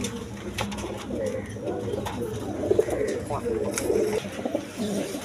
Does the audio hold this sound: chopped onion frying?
no